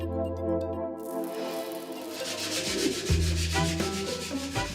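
Wooden toys being hand-sanded by a retiree in his workshop, with steady rubbing strokes that keep going close up and carry on with no talk at all.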